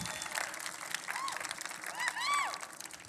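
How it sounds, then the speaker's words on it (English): An audience at a Salesforce admin keynote applauds for Tony. The steady, fairly faint clapping comes from a distance, with a few high whoops and cheers rising near the end. "Round of applause for Tony."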